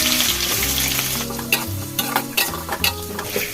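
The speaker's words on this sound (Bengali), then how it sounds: "আলুগুলো ভেজে নেবো এর মধ্যে দিয়ে।" Diced potatoes and chopped onion fry with whole cumin, cinnamon and dried chilli in a pan for a fish-roe curry, giving a loud steady sizzle broken by clinks and scrapes of stirring, with no talking.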